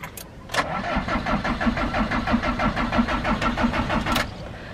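A car on an expressway, stranded after a breakdown, cranks steadily but fails to start, its starter motor churning in an even rapid rhythm for about four seconds, close and loud, before stopping.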